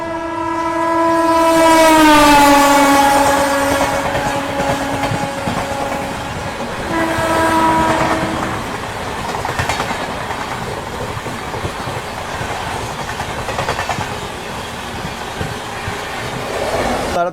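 Amrit Bharat Express train passing close by on the Delhi to Guwahati route, opening with a loud sustained horn blast that falls in pitch, a second shorter horn, then continuous rumbling wheels and clattering cars going by.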